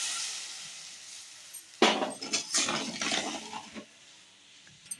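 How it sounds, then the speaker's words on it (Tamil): Water is poured into a pan of palm sugar, a short hissing splash that starts abruptly and runs for about two seconds at close range before stopping, with a quiet hiss before and after. "இதே கடாயில் போட்டு கொஞ்சமாக தண்ணி கரையிறதுக்கு கொஞ்சமாக தண்ணி ஊற்றிக்கலாம்"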